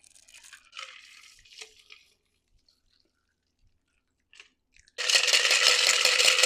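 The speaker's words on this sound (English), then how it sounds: "We're gonna double strain today and get all those little ice chippies out of there." Pomegranate margarita double strained from a shaker over ice, first soft scattered clinks and trickles with pauses, then a sudden steady pouring splash rushing close and loud to the end, no talking.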